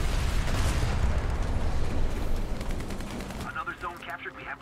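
Tank cannon and machine-gun fire in the War Thunder tank battle game, dense loud bursts of shots and rumbling explosions that thin out toward the end into sparser, rapid rattling fire.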